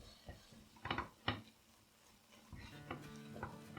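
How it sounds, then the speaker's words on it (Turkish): Tulumba dough cooking in a pan on low heat is stirred continuously, with quick scraping strokes and soft sizzling, several sharp clacks early, then a run of rapid strokes. "Ve sürekli karıştırarak hamurumuzu pişiriyoruz"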